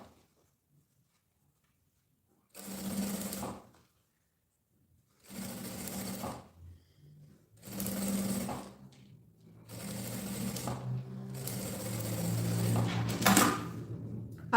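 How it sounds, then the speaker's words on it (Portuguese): A sewing machine runs a security seam along a bag in five close, distinct bursts of stitching separated by short pauses, each burst a steady mechanical whir, with the last stretch running longer. "vou passar uma costura de segurança"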